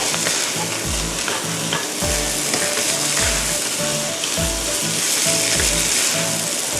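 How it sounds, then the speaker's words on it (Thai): Rice stir-fried with chicken and curry powder over high heat: a loud, continuous sizzle with rhythmic scraping strokes of the spatula against the pan roughly every second, close up and with no talking. "ในการผัดข้าวนะคะ อย่าลืมที่จะต้องใช้ไฟแรงนะคะ"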